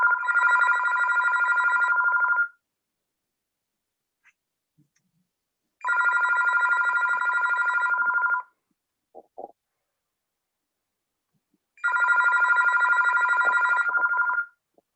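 A house telephone rings in three long electronic trilling bursts spaced evenly apart, with silence and a faint click between rings.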